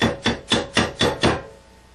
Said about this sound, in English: You can tell I use my mallet quite a bit.